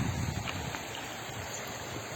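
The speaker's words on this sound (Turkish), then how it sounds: "gördüğünüz gibi harika bir dere" A clear forest stream in Erfelek flows on toward Tatlıca Waterfall, its steady, close rushing and gurgling carrying on evenly without pause, with no one talking over it.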